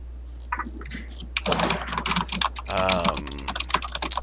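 Rapid computer keyboard typing picked up by a streamer's microphone, a loose flurry of clicky keystrokes that starts sparse and builds into dense bursts over a low steady hum.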